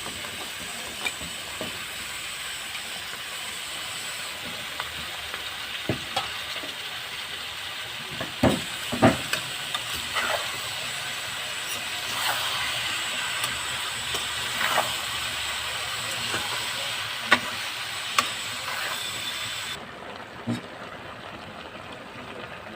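Chopped Malabar spinach (pui shak) fries in a pan for a curry, a steady soft hiss with occasional sharp ticks and clicks of stirring, the hiss dropping away near the end.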